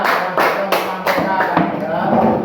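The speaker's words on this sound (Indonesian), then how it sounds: "itu semua untuk beri tepuk tangan bersama-sama" A classroom group claps together in a few bursts of applause, close and fairly loud, with a teacher's voice speaking over and between the claps.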